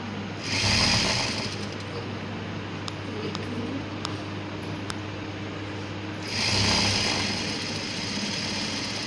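A sewing machine stitches piping onto a laptop bag. Two loud, fast mechanical whirring runs come at the start and near the end, with a low steady hum and faint ticks in between.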